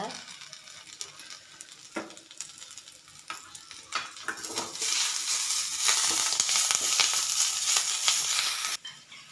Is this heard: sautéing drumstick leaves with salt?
yes